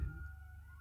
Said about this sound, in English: I don't know if you can hear the sirens outside.